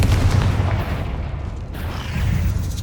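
Bombarda and Confringo spell explosions in the Hogwarts Legacy video game, heard as dense, continuous booming and crackling blasts that rumble loudly throughout with no pause.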